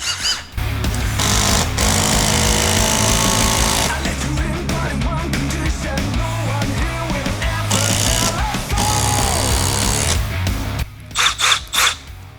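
An impact driver on speed 2 with a 5 amp hour battery hammers a screw into wood without pre-drilling, continuously for several seconds, a loud, rapid rattling close up, then stops and gives a few short final bursts.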